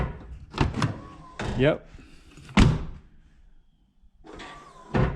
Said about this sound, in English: opening the door, it's almost instant. By the time you have the door open, the step is down